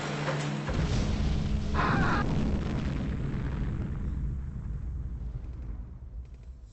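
A nuclear strike explodes in the video game Command & Conquer as a loud, deep, rumbling blast that swells and then slowly fades into a long low roar, with no talk.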